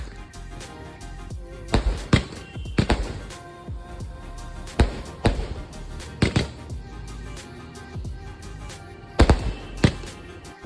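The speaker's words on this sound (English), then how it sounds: "And we also saw these firecrackers." Sharp bangs of firecrackers burst at irregular intervals during Diwali, several loud cracks with quieter pops between them, ringing out in the open.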